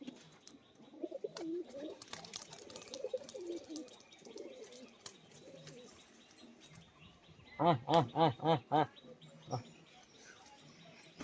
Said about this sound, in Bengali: এটা মাদি পায়রা, সেলের জন্য থাকবে